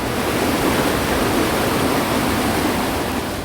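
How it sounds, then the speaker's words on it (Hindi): Swollen river floodwater surges through a residential area with a steady, loud, broadband roar that continues without a break, and no voices. "रिहायशी बस्तियों से होकर गुजरती हाहाकारी लहरें।"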